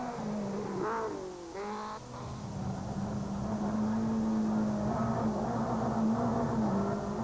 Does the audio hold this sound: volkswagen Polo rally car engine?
yes